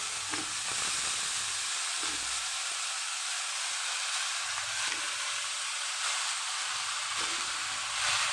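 Sour leaves (chuka tenga) sizzle in hot oil in a wok for an Assamese fish dish, a loud, steady hiss of frying with a few soft stirring knocks and no talking.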